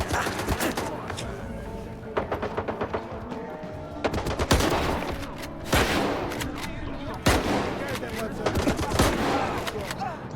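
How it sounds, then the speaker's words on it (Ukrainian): Dense bursts of rapid gunfire and sharp shots crackle throughout, with loud rattling volleys at intervals, in a STALKER 2 video game battle. "Чого це вони в мене стріляють?"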